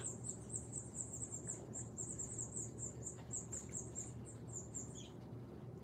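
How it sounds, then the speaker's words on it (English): Faint, rapid high chirping from small birds repeats continuously over a low background hum, distant and quiet. "the birds is birding"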